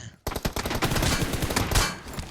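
Rapid automatic gunfire in PUBG Mobile rattles in a loud, close burst of dense shots that runs for about two seconds after a brief quiet start, with no talk over it.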